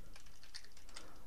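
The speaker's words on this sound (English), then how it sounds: "And let's type in the IP address" Computer keyboard keys tapped quickly, entering an IP address on a Windows computer to connect to a Raspberry Pi; a brief, quiet run of light, close clicks with no talk.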